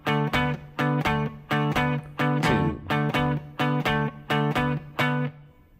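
Electric guitar plays two measures of a D blues shuffle with barre chords, about a dozen crisp rhythmic strums in a steady pulse, slightly distorted, clear and close.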